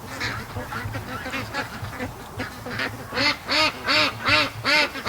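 Ducks on a lake quack and honk repeatedly, starting faint and scattered, then a louder run of rhythmic quacks close by toward the end, with no talking.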